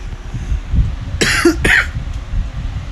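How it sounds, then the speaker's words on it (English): Two short, sharp coughs from a single person, close and clear over quiet background hum. "Forgive me for that cough"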